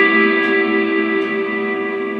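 An Electro Harmonix Cathedral reverb pedal on its Holy Grail setting rings out a sustained, bright, shimmering wash of guitar tone, layered tones holding steady and slowly decaying, loud and close with no voices.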